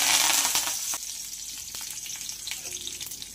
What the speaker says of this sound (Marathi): यामध्ये आपण आता कढीपत्ता फ्राय करून घेणार आहोत